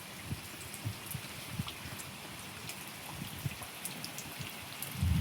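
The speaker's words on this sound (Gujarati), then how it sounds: "વરસાદ આવ્યો ને ભાઈ" Steady rain falls on open farmland, a dense even patter of drops with a few louder splashes, continuous and alone with no voices.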